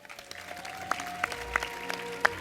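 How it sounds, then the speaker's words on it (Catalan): Festival audience applauding the presentation of the festival queen and her court of honour, scattered moderate clapping with a few distinct sharp claps standing out over a low background hum. "Rebem-les amb un fort aplaudiment"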